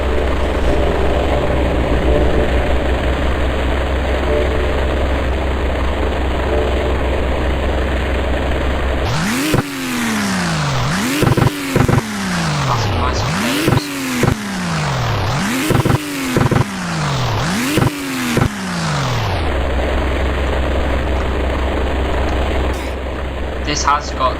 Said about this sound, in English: the normal BMW engine that they use